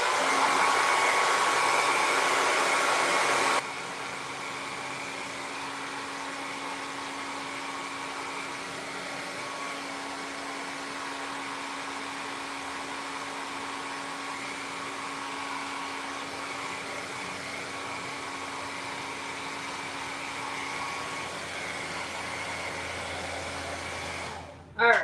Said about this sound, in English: y'all know what a blow dryer sounds like